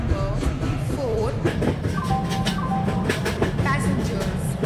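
Diesel locomotive at a railway station platform, a continuous loud engine rumble with rhythmic clatter and whining tonal sweeps throughout.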